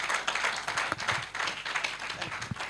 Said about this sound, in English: A round of applause once again for Mrs. Momo